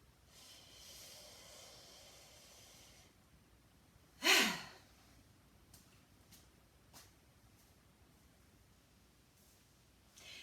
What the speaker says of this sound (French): nous faisons la grande respiration